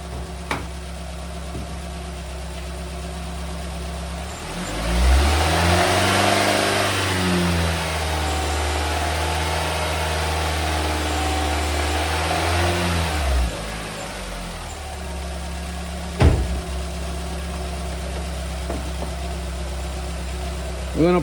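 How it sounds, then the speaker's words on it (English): A 2019 Nissan Rogue engine idles steadily, then is revved up to about 2500 RPM and held there for several seconds before dropping back to idle, heard close by under a constant electrical hum. "Now it's telling me to increase the RPM to 2500 and then press enter."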